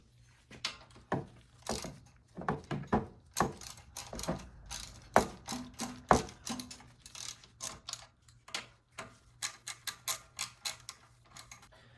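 A ratchet wrench tightens the carburetor bolts on a Wheel Horse 520Lxi garden tractor, its quick clicking strokes repeating in close, steady bursts for several seconds with short pauses between, and no voices.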